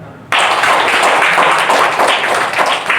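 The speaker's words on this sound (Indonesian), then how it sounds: "Tepuk tangan." Audience at a talk show event in Jepara, Indonesia breaks into clapping that begins suddenly after a brief quiet moment and stays loud and steady throughout, with no voices on top.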